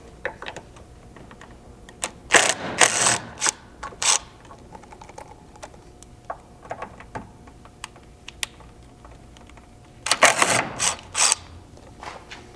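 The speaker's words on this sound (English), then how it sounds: "we need to remove these two bolts with a 10 mil socket" A ratchet fitted with a 10 mm socket backing out bolts on a Bronco, quick bursts of clicking at close range, two main clusters separated by scattered single clicks in a quiet workspace.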